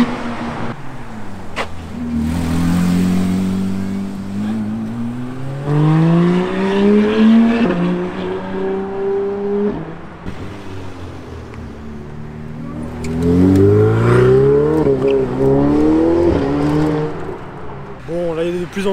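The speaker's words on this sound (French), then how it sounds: "il y a vraiment littéralement des runs entre supercars devant, je vais essayer de t'en filmer quelques-uns" Powerful supercar engines rev and accelerate at a supercar charity event in loud rising sweeps, one surge after another, with bursts of tire noise and traffic between them.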